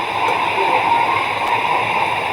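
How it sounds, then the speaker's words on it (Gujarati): Heavy rain pours down outside, a loud, steady, dense roar of falling water that fills the whole stretch without pause. "અને વરસાદ તો અહીંયા બહુ જ પડી રહ્યો છે"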